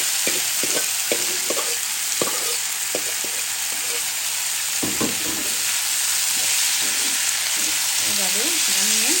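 Shrimp with vegetables (taro, eggplant, potato, cucumber) and chili frying in a pan, a continuous close sizzle with scattered clinks and scrapes of stirring throughout.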